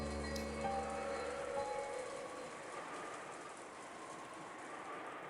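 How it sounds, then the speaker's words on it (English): Rain sound effect from the Umineko visual novel game, a steady soft wash of falling rain, faint and continuous, with a brief fading tonal hum at the start. "you couldn't ignore the sound of rain sneaking into the dining hall"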